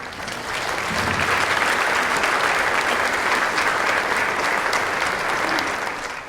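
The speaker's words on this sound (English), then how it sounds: "Big round of applause." An audience at a 50th-anniversary award and celebration dinner applauds in one sustained, dense burst of clapping that builds quickly, holds steady and eases off at the end.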